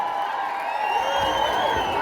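Crowd applause and cheering for Kawajiko at a political rally in Gatundu, a continuous loud wash of clapping and whoops with some shrill tonal calls through it, lasting about two seconds.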